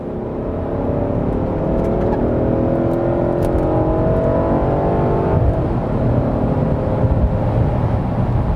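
An L322 Range Rover cruises at 70 mph, a steady loud cabin drone of engine and road noise with a slight rising whir, continuous and unbroken with no voices.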